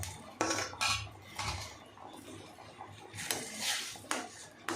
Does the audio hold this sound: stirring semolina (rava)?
yes